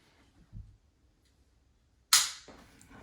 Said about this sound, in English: Pull it back till you hear a click.